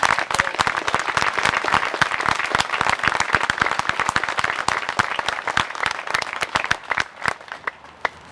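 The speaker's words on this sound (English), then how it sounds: "Let's give a big round of applause to Peter and his" Crowd applause at the New Rochelle Vietnam Monument dedication: dense, energetic clapping close by, sustained for about seven seconds before thinning out to scattered claps.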